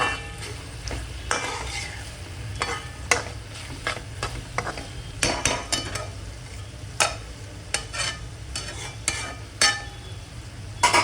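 Okra with garam masala being stirred in a pan, a low continuous sizzle under frequent scraping and clinking strokes of a spatula against the metal, close and uneven in rhythm.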